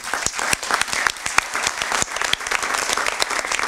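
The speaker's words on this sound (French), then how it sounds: "je vous remercie de bien vouloir les applaudir" Applause for city staff at a New Year's ceremony in Verrières-le-Buisson, with loud distinct claps standing out from a dense mass of clapping throughout.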